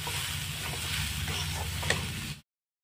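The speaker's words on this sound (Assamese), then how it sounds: "নাৰিকলখিনি চুজিৰ লগত এনেদৰে ভাজি লৈ আছোঁ" Grated coconut frying with sooji semolina in a pan, a close, steady sizzle with stirring scrapes that runs continuously and then cuts off abruptly.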